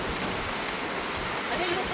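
Steady rain pours down nearby in an even, unbroken hiss that holds at the same loudness from start to finish.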